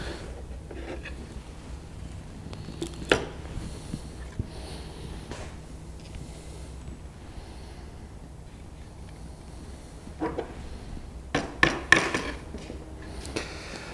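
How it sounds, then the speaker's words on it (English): A hammer driving the joint of a wooden beehive telescoping lid closed, sparse sharp knocks: a few single blows early, then a tighter cluster of strikes near the end, with quiet gaps between. "sort of squeezing the joint closed as I'm hammering that down"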